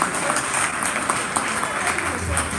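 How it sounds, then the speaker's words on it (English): Audience applause at a Sierra Leonean community gathering in Dallas, a steady dense wash of clapping throughout with a faint voice or two mixed in. "Let's clap for him for that."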